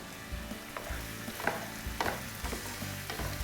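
Soaked raisins land in a hot pan under a dense frying sizzle, with several stirring scrapes and clatters spread across the steady hiss and no voices.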